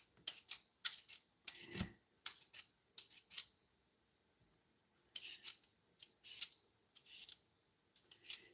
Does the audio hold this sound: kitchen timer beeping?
no